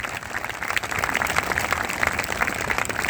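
Church congregation clapping hands together during worship, a steady dense patter of many hands held at moderate level throughout without pause.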